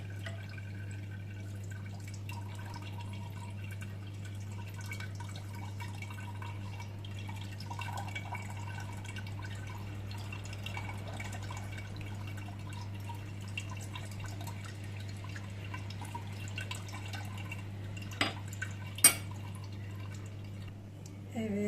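Homemade lemonade strained through a cloth, with soft, steady dripping over a low constant hum and a couple of small clinks near the end.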